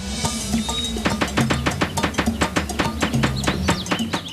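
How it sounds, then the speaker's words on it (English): Rapid, sharp tapping in quick bursts as a woodpecker drills holes in pine bark, repeating steadily over several seconds against a low background hum. "It's a woodpecker. It's using its beak to drill holes in the bark of the pine tree"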